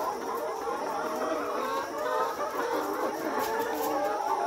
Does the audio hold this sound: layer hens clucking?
yes